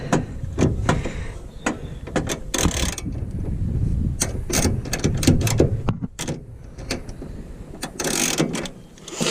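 A hand ratchet clicks in rapid bursts while tightening a used bolt on an Armstrong lever arm shock absorber of an MGB GT, with sharp, close clicks between pauses and some mechanical clunks and rustle, without talk.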